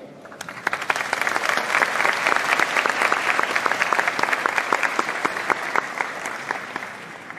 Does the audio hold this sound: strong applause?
yes